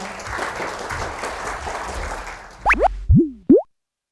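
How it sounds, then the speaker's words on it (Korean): An audience claps steadily for a couple of seconds at a medical lecture as a speaker is introduced, then the applause fades out, followed by a few sharp sliding pops and squeaks. "박수 부탁드립니다"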